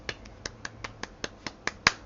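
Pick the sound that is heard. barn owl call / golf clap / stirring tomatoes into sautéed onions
golf clap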